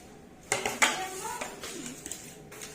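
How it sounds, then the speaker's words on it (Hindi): Dishes, pots and utensils are handled in a home kitchen, with a few faint clinks and clatters in a short burst, then quieter rattling. "ये दादी के यहाँ के बर्तन दे दो।"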